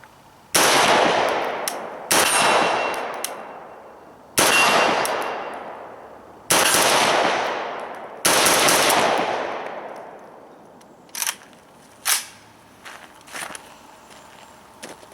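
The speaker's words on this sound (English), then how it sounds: "now we're going to go ahead and shoot this Arsenal Arms gun" Arsenal Arms AK-74 rifle firing 5.45x39 rounds outdoors, five loud sharp single shots with ringing decays spaced about two seconds apart, followed by fainter clinks and clatter.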